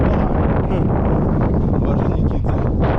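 Strong wind on the Crimean coast buffets the microphone, making a loud, continuous roaring rumble that fills the whole stretch with no pauses.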